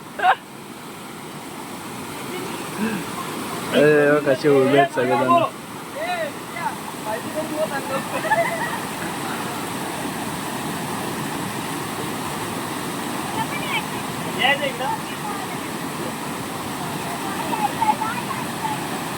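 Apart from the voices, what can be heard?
water splashing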